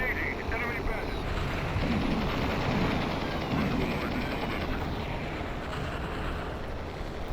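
A video game helicopter in Urban Assault gives a constant, dense rotor and engine drone that holds steady throughout, with a voice talking over it.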